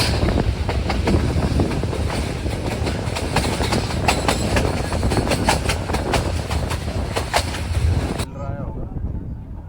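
A train departs a railway station on the Nanpara–Mailani line near Dudhwa National Park, its wheels rumbling and clacking loudly and continuously with wind buffeting, before the sound abruptly cuts out.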